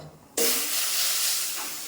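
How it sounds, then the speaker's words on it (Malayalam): Boiling water poured into a pan of frying masala for a fish chili curry sets off a sudden loud sizzling hiss that holds steadily, then slowly eases. "ഇതാ തിളച്ച വെള്ളം ആണ് കുറച്ച് ഒഴിച്ചു കൊടുക്കുന്നുണ്ട്"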